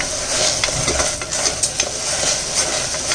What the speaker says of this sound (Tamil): கொள்ளை வாஷ் பண்ணி நம்ம போட்டுக்கோப்பா. அப்போ லைட்டாக நல்லா கொஞ்சம் லைட்டாக வதக்கி விட்டுக்கிறோம்.